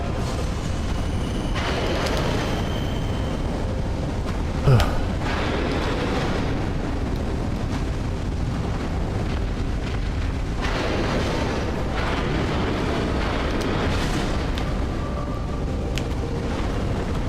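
Explosions in Dark Souls 2 give a continuous roaring, eruptive rumble, with several louder blasts swelling through it and one sharp pop near the start, with no voices.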